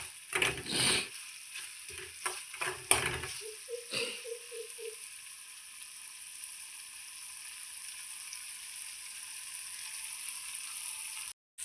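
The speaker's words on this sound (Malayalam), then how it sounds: "നമുക്ക് നല്ലോണം ഒന്നുകൂടി ഒന്ന് ഇളക്കി കൊടുക്കാം" Egg fry mixture stirred in a pan, with a few scraping and knocking spoon strokes in the first seconds, then a steady low sizzle continuing alone.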